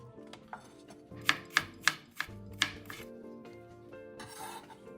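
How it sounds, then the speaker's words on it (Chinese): A knife slices peeled jicama on a cutting board, giving several sharp, crisp chops in quick succession and then lighter scraping and cutting sounds, close and quiet, with no talk. "沙葛去皮，一样净重650克，先切片，接着再切成丝"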